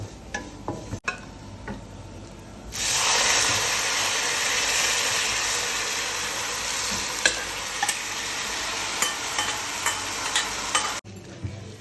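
Coconut fried until browned being stirred together with cooked plantain in a pan for kaalan, a steady loud sizzle with scraping stirs that starts a few seconds in and continues, with no talking.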